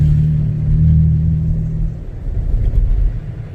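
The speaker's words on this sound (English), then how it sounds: "A little double tap that gas pedal for y'all." A car engine in snowy conditions rumbles loud and close, swelling as the gas pedal is tapped twice, then settling back into a rough low idle.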